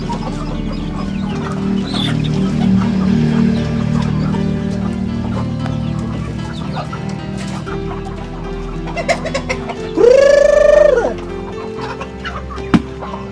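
Chickens on a small backyard poultry farm cluck steadily close by while eating rice porridge, with one loud, rising squawk near the end.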